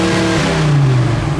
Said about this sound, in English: As we rev it up a little bit, so we rev it up to 1500 RPMs